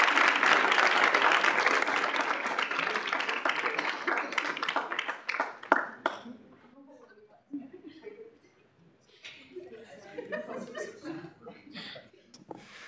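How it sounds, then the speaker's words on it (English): An audience at a K-State student involvement meeting claps for the speakers, with a full burst of applause for about six seconds that thins into scattered claps, light laughter and murmuring voices. "if we could give our speakers a round of applause on their presentation"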